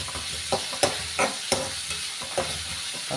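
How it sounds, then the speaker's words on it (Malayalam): Onion is sautéed in a pan with crushed garlic, ginger and shallots while preparing a Kerala-style dry chicken roast, giving a steady low sizzle broken by several sharp stirring scrapes and clinks of a spoon, heard alone. "സവോള ഇട്ടൊന്ന് വഴറ്റി വെക്കുമ്പോൾ വെളുത്തുള്ളി ചതച്ചത്, ഇഞ്ചി ചതച്ചത്, ചുമന്ന ഉള്ളി ചതച്ചത് അതും കൂടി നമുക്ക് ഇതൊന്ന് കുറച്ച് വാടിയിട്ടൊന്ന് കൊടുക്കാം."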